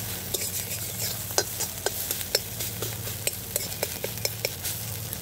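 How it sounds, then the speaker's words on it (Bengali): An egg with a pinch of salt is whisked in a bowl, giving quick, regular tapping strokes against the side under a faint steady background hiss, with no speech. "ডিমটা একটু ঝুড়ি ঝুড়ি করে নেব।"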